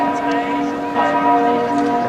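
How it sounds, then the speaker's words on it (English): Church bells ring out at noon over Venice, a sustained resonant peal heard from some distance with faint outdoor background. "That's the noon bell."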